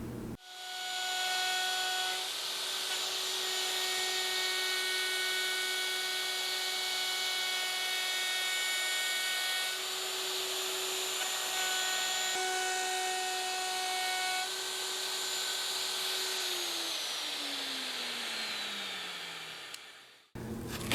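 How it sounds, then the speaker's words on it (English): Plunge router with a top-bearing flush trim bit cutting MDF, fitted with an oversized base and dust collection: a loud, steady high-pitched whine that holds for most of the run, then winds down as the motor stops. "And now just that top bearing bit to flush trim things up."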